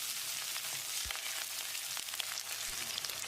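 Small onions (about a handful), curry leaves and broken red chillies sizzle steadily in hot oil in a pan for mutton kulambu, a dense continuous crackle with a few soft stirring knocks, close and alone with no voices.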